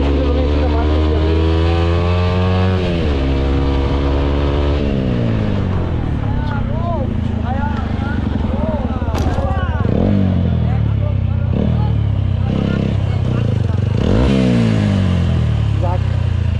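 A motorcycle revs hard and accelerates for a rolling stop stunt at about 70 speed, its engine pitch sweeping up through repeated gear changes, loud and close throughout with a rider's voice occasionally under it.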